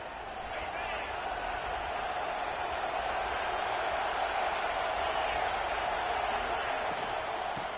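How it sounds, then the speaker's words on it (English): Steady, loud stadium crowd roar fills the whole stretch at a Penn State versus Ohio State college football game, a dense continuous wash of thousands of voices with no pauses or breaks. "with this place rocking, the crowd forces a false start"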